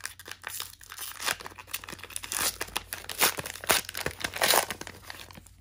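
Foil wrapper of a fat pack of extended-series hockey cards being torn and crinkled open by hand, close and fairly loud, with irregular crackling rips and crumples continuing throughout.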